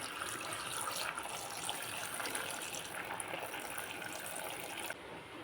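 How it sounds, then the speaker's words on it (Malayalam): Continuous rushing water pours steadily into a pressure cooker for several seconds, fairly quiet, before easing off near the end. "ഇനി ഇതിലേക്ക് ആവശ്യമായിട്ടുള്ള വെള്ളം ഒഴിച്ചെടുക്കാം"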